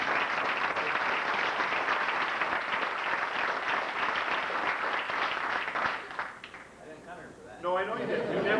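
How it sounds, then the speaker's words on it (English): Audience applause at a tournament gathering, dense and steady clapping filling the room for about six seconds, then thinning briefly before voices break in near the end. "let's give them a round of applause."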